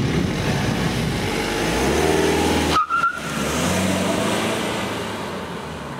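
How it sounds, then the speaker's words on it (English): A 2012 BMW 116d diesel hatchback in Sport Plus mode with driver aids off pulls away hard on a Spanish road with a little wheel spin, its engine note rising steadily and loudly over a short gap in the sound. "We've got a wee bit of wheel spin off the line there"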